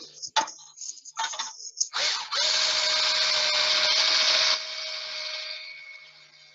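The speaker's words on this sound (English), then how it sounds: "And then I press my drill against it." A power drill twists wire into a coil, whirring in a steady sustained burst after a few short clicks and handling knocks, then winding down and fading out.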